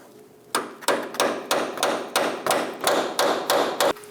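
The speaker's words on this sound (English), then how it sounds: "Using a chisel, we're going to spread apart that clamp." A hammer strikes a chisel to spread the steering shaft clamp on a 2003-2025 Chevrolet Express 2500, giving eight loud, evenly spaced metallic blows up close, each ringing briefly before the next.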